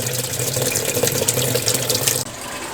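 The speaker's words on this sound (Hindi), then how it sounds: "यहाँ पे मैंने मशीन में लगा दिया है पानी भरने के लिए" Water pours steadily into a washing machine as it fills for a laundry load at home, a loud continuous rushing gush that cuts off abruptly near the end.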